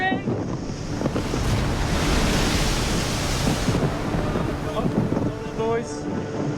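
Ocean waves and strong wind drive against a small yacht at sea in rough conditions, a loud, continuous roar of surf and gusts with no break.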